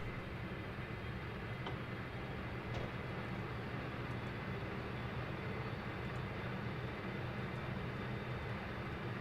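Twin engines of a Dash 8 Q400 turboprop run steadily during pushback in a flight simulator, a constant broad droning roar with no breaks, heard from inside at a moderate level.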